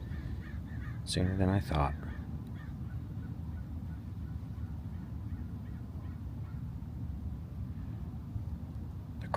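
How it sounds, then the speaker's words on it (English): Crows caw outdoors in a brief, close burst of a few harsh calls, then fall quiet while someone speaks over soft open-air ambience. "Crows are barking."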